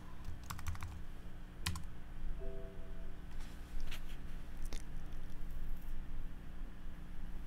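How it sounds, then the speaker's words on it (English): Typing on a computer keyboard while editing values in software: a few quiet clusters of key taps at an even pace, with no talk. "And then we can double-click and type in a new value."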